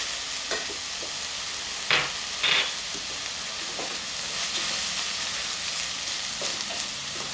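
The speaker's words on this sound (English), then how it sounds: "And to that, add the butter." Butter melts around mushrooms in a hot pan for a mushroom soup, giving a steady soft sizzle with a couple of brief scraping stirs and no talking.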